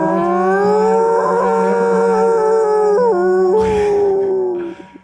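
A dog howls loudly and close in a studio during a live game segment, a long wavering cry with rising and falling pitch that holds for about four seconds before breaking off.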